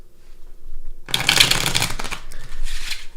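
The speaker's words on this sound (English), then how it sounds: "Let's do a few more shuffles." A deck of cards being shuffled close by, a burst of rapid riffling followed by a second, softer shuffle.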